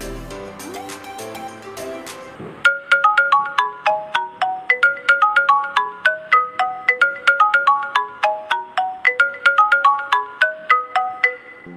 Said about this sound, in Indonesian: Dan seperti itu gambaran ringtone yang kedua